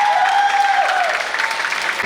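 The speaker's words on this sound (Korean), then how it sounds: "뜨거운 박수 부탁드리겠습니다" A crowd claps in a short burst, with a tone sounding briefly over the start of the steady clapping.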